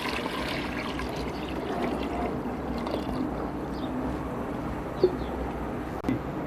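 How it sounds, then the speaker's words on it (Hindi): Water is poured onto potatoes in a cooking pot, a soft, steady trickle held at an even level for several seconds, with a couple of small knocks near the end and no talk. "अब मैं इसमें पानी डाल रही हूँ।"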